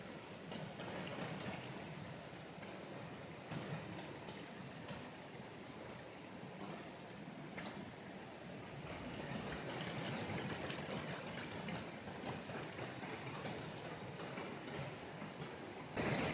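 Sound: small stream and little waterfall in a Carpathian forest

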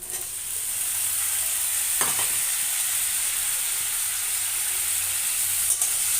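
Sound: stirring cut potatoes frying in a pan

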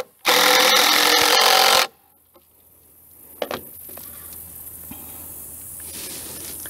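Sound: power driver running a torque screw into bridge timber

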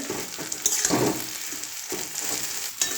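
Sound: stirring mashed potato with fried onions and green chillies in a pan

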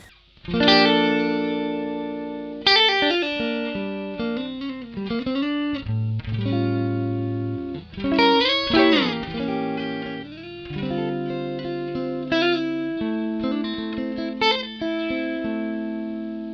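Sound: Ibanez ES3 Echo Shifter analog delay slapback on guitar

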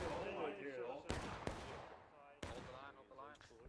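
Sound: cannon shot in War of Rights video game

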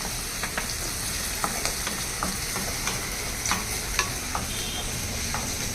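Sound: ginger garlic paste frying in a pan

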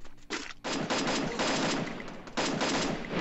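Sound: gunfire in a video game

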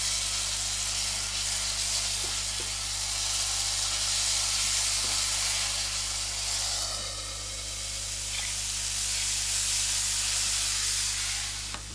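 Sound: tomato sauce with aged vinegar frying in pan

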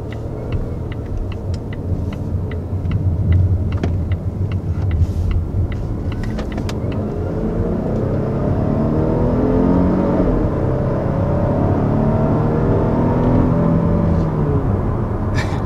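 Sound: Volvo S90 R-Design car engine while driving

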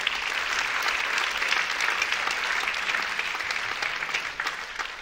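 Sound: audience applause

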